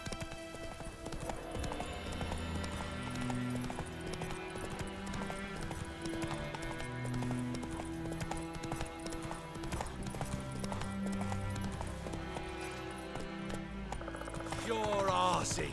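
Hooves of Roach, the horse in The Witcher 3: Wild Hunt, clip-clopping in a steady rhythmic gait beneath a game music score, with a short burst of sound near the end.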